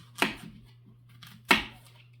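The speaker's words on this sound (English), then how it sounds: "And then just keep chopping up your apples." Knife chopping apples on a cutting board: two sharp, close cuts about a second apart with faint softer taps between, in a quiet room.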